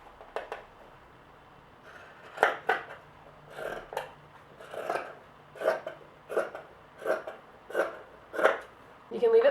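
Scissors cut through a t-shirt during a DIY tee transformation, giving a run of about eight crisp snips at a steady rhythm. Each snip is close and fairly loud.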